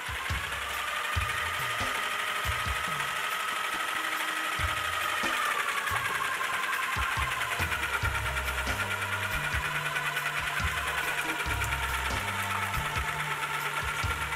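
Clay processing machine working found clay, its paddle forcing slip through a sieve, giving a steady, loud mechanical drone with a rhythmic low thumping and whirring that runs continuously throughout, with no voices.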